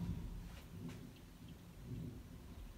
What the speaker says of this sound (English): Raining also have thunder in outside.